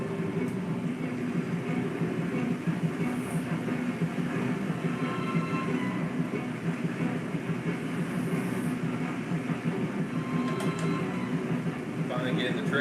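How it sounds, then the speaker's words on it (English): A train approaching a station in a drama series, heard as a steady low rumbling roar with faint clattering, constant and moderately distant throughout. "We see the train approaching a train station"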